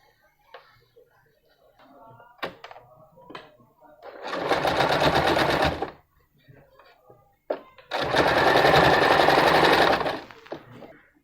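A sewing machine stitches frills onto a homemade fabric face mask in two loud, steady bursts of about two seconds each, with quiet pauses, faint handling clicks and brief speech between runs.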